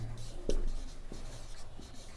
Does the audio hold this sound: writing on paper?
yes